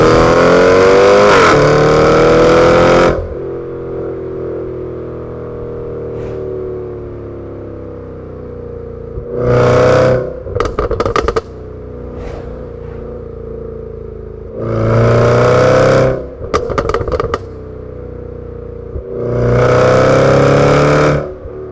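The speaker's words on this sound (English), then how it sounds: "here we get a two-stage exhaust which can be set to loud regardless of engine mode" A 2018 Range Rover Sport SVR V8 with its two-stage exhaust set to loud barks through several hard revs, metallic and rattly, in three separate bursts with quieter idle and engine hum between them; no one speaks.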